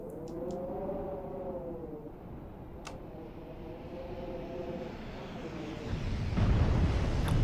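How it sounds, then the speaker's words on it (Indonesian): In a video game, a rain of fire bombards from above. A low, rumbling roar carries a few sharp ticking impacts, then swells into a louder, dense crackling rush toward the end. "aku mendengar suara yang menyeramkan dari atas sana. Itu adalah hujan api."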